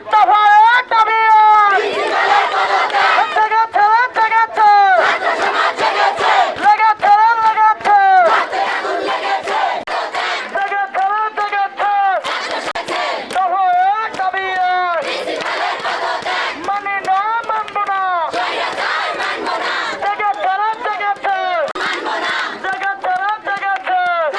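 A large crowd of nursing students at a protest chants slogans in loud, rhythmic unison, with phrases repeated in bursts throughout and no pause.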